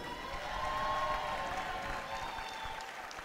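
A basketball arena crowd at a Liberty women's game against UTEP applauds the team's seniors, a sustained wash of clapping and light cheering heard from some distance and holding steady throughout.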